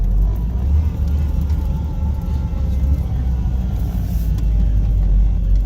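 A small rear-engine car with a stick shift launches hard, its engine a loud, close, continuous low rumble with road noise throughout and no clear gear change.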